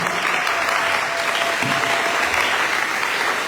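Church congregation applauding the Lord during a Tuesday worship service, loud sustained clapping from a crowd throughout, with no break.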